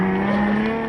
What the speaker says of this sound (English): Nice to hear the V6 Mitsubishi roaring away there